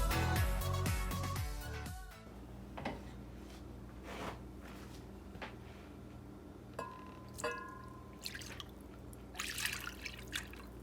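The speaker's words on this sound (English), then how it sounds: "I'm going to strain this into this pot to cook it a little bit longer. I'm going to use this strainer and some coffee filters." Melted rendered pork fat drips and trickles quietly through a strainer lined with coffee filters, with scattered soft drops and a few light clinks after a louder opening burst.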